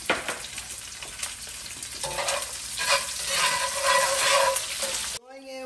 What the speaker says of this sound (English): Let me fry up these onions in here.